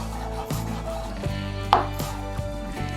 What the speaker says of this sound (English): I'm gonna cut a slice off this.